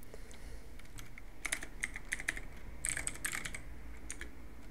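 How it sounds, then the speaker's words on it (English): Soft keystrokes on a computer keyboard as a password is entered, scattered clicks in short clusters over a steady low background hiss. "now type here any password you want, and type it again"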